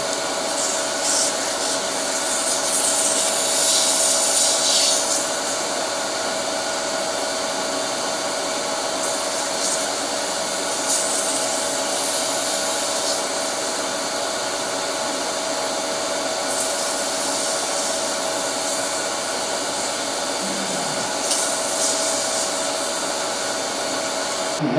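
Earrings being sanded through progressively finer grits up to 400 on a powered sander, a steady loud whining hum with a constant tone and brief rises of gritty hiss as the piece presses against the abrasive, without talking.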